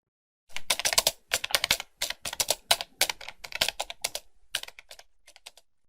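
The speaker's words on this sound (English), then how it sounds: "people typing on computer keyboards" Bursts of rapid clicking from people typing on computer keyboards, heard in a played recording from an English-course audio file. The clacking comes in dense clusters with short pauses, close and clear, with no talk over it.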